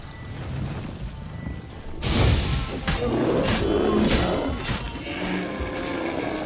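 A bear in The Witcher 3: Wild Hunt gives a deep, growling roar that swells up and rumbles on for several seconds, layered with crunchy, crashing bursts.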